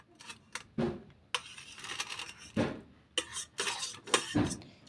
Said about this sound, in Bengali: খুন্তি করে একটু নাড়াচাড়া করে নিলাম।